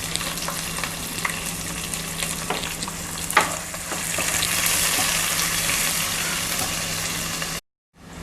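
Chopped onions and curry leaves frying in hot oil for a cowpea gravy give a continuous close sizzle with a few stirring knocks and a low steady hum beneath.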